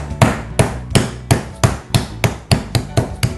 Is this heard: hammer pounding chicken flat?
yes